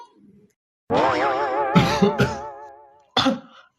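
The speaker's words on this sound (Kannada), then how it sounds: "ಕೆಮ್ಮು ನೋಡ ಹೆಂಗ್ ಬರ್ತೈತೆ" A drawn-out, rasping vocal cough-like sound, close by, followed by a short sharp cough after a brief pause.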